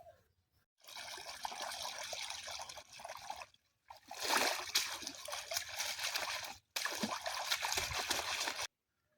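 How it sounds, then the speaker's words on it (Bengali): A rohu fish head is rinsed under running water for a Bengali village-style neem leaf dish, with three bursts of close, steady trickling and splashing separated by brief pauses. "রুই মাছের মাথাটা প্রথমে ধুয়ে নিচ্ছি।"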